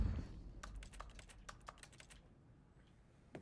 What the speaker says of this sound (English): Piano sounds like a keyboard.